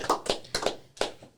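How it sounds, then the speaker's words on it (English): A few people clap in short, uneven bursts, about five or six sharp claps spread over a moment in a small podcast room, close and fairly loud. "Clap it up for Vic"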